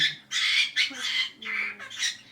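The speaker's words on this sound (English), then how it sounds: "My bird is very loud" A pet bird squawks loudly and close in a run of harsh, shrill calls, about five bursts in quick succession with brief gaps between them.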